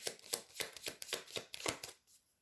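Tarot cards are slapped down one after another over other cards, a close run of about eight soft, crisp snaps in quick rhythm, then a faint rustle.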